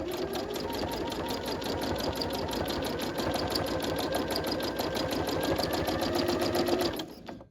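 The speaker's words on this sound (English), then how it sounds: "this may help to reduce thread nests at the back. Just for the first few stitches." A home sewing machine runs steadily at close range, stitching fabric for handmade heart greeting cards in a fast, even, rapid rhythm for several seconds before stopping abruptly.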